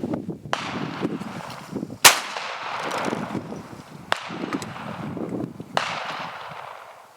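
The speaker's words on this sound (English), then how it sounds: "we'll have another try at an aerial target with the little IGA hiker shotgun" An IGA Boito Hiker .410 shotgun fires at an aerial target outdoors, with sharp single reports at about 2 and 4 seconds and a third near 5.8 seconds, each standing out over steady background noise.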